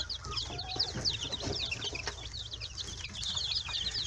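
Dense chorus of high chick peeps fills a crowded brooder holding dozens of young chicks and a quail, the overlapping calls continuous and close, with soft scuffling beneath.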